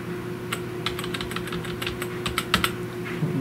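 Keys tapped on a 2004 iMac G5 keyboard, a scattered run of crisp, close clicks at an uneven pace over a faint steady background hum.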